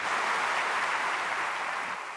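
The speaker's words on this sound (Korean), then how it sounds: "박수로 환영하겠습니다" Dense, continuous audience applause welcoming an elderly scholar to the podium at a prayer meeting for peaceful reunification, a steady even roar of many hands throughout with no talking.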